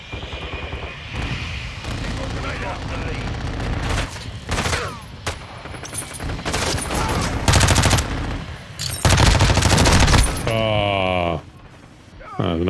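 A Lachmann Sub MP5 submachine gun firing in Call of Duty Modern Warfare 2, with loud repeated automatic bursts and separate shots over game noise and mixed effects, and a player talking over it.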